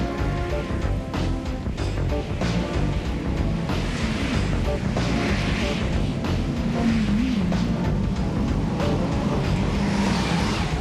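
Cars streaming in and out of London, a continuous dense rumble of engines and passing traffic with a couple of rising engine tones, loud and steady throughout.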